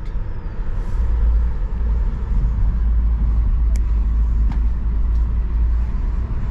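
A Tesla car driving on a road gives a steady, loud low rumble of road and engine noise that continues unbroken, with a few faint brief ticks above it and no talking.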